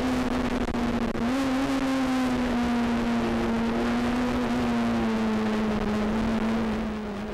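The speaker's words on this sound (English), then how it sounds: "let's have a listen to this Honda. It's a great noise." Honda race car engine howling at steady high revs on a mountain circuit, a loud continuous tone with slight pitch shifts as it holds speed, running throughout with no talk.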